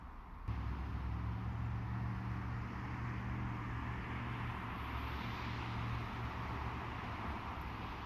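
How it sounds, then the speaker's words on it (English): Road traffic hums in a steady low rumble with broadband road noise, vehicles passing nearby, continuous and fairly quiet. "I'm standing next to traffic"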